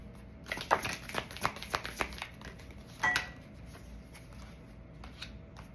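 A deck of oracle cards is shuffled by hand in a quiet room, giving a run of quick, papery riffling snaps for about two seconds, then a brief louder burst and softer scattered shuffling. The sound is close and there is no talking.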